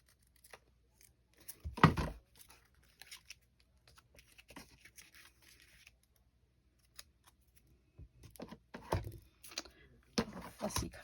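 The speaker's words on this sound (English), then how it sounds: "Fussy cutting scissors." Fussy cutting scissors snip paper for vintage ephemera tags and journal cards, close and crisp, with a sharp burst of cuts early on, scattered quiet snips in between and another flurry near the end.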